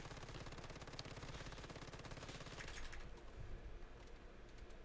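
A full magazine emptied from a rapid-fire gun in the shooter Once Human, a steady stream of evenly spaced shots for about three seconds, then stopping, leaving quieter background sound.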